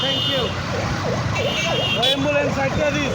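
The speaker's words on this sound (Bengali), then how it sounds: "অ্যাম্বুলেন্স সাইড, কোনো তাড়াহুড়া করা যাবে না, আগে অ্যাম্বুলেন্স যাক।" A wailing ambulance siren sweeps up and down repeatedly in busy Dhaka street traffic, loud and continuous over engine rumble and general road noise, with some talk nearby.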